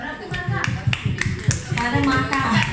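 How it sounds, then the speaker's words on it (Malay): A small group at a workplace training session claps together in a loose, rhythmic pattern of distinct hand claps, while a voice keeps talking over them. "Bagi tepukan"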